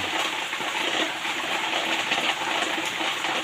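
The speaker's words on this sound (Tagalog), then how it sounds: "may baha na naman guys" Floodwater rushing and gushing in Subic during a typhoon, a steady broadband wash of moving water that stays loud and continuous throughout without pause.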